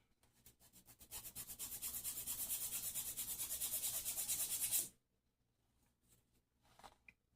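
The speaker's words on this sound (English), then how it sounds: "I'm gonna sand this down just a little bit." A handmade trinket dish is sanded by hand in steady rhythmic back-and-forth strokes for about four seconds, close and fairly quiet, then stops abruptly, leaving faint scattered handling noises.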